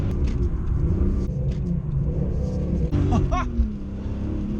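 A manual BMW E46 M3 engine drones steadily from inside the car while driving, a loud continuous low rumble with a brief rising rev partway through.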